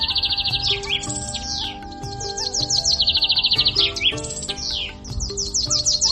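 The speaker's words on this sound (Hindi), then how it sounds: "कृष्णा झिलमिल चिड़िया को घर ले आता है" Quick, high-pitched chirps and twittering trills from a small bird come in repeated close bursts, layered over gentle background music from an animated tale.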